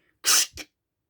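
A voice makes a short, sharp cracking burst followed by a softer click, imitating a neck cracking, brief and close.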